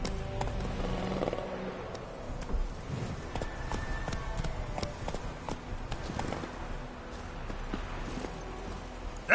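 Horse Roach galloping in the Witcher 3 video game, a steady drumming of hoofbeats at moderate loudness with scattered game sounds and no talking.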